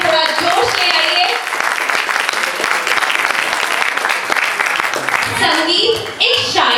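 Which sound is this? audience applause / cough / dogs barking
audience applause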